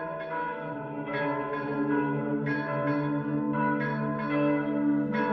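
Church bells peal from the mudéjar brick towers of Teruel, with repeated overlapping strikes and long ringing tones that fill a steady, fairly loud wash of sound, and no voices.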